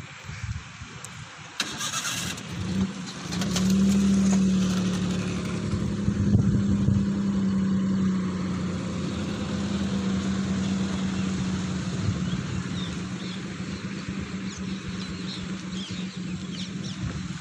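A manual car stalling and being restarted on an uphill slope during a driving lesson, the engine catching and settling into a steady mid-pitched idle hum that runs on without pause, with no voices over it.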